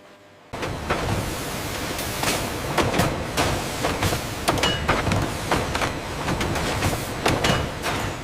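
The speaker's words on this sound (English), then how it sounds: "A heated jaw clamps down, welding the bag shut and slicing it free in a single brutal motion." An industrial candy bag sealing machine in a large candy factory, its heated jaw clamping and cutting bags, gives repeated sharp mechanical clacks and thumps over a steady loud whirring din of factory machinery, with no voices.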